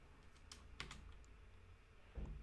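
Quiet typing on a computer keyboard, a handful of quick clicks in an uneven burst, close by, then a soft thump at the end.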